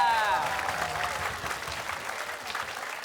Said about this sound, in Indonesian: Boleh dong tepuk tangan sekali lagi?